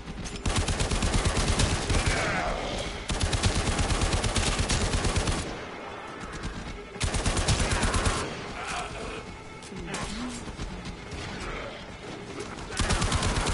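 Rapid automatic gunfire from a weapon in the video game Warframe, loud dense bursts of fast repeated shots separated by brief lulls, with quieter background game sounds between volleys.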